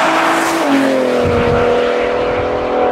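A new Ford Raptor with an EcoBoost engine and its exhaust, heard as a loud, close, continuous engine note that steps down in pitch and then holds steady.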